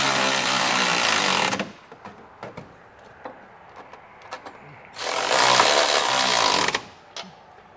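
Trailer hitch bolts being tightened with a 3/4 inch socket on a power tool. Two loud bursts of whirring and rattling, each about two seconds long, are separated by a quieter gap with small clanks and taps.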